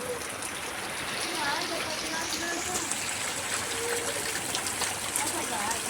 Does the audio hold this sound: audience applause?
no